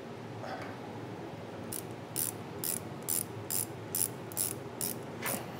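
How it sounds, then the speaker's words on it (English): Ratcheting 14mm wrench tightening a nut on a truck sway bar bushing, giving about eight quick bursts of clicking at a steady rhythm, close up over quiet background with no talk. "Go ahead and take two 14mm wrenches. It helps to have a ratcheting one as well."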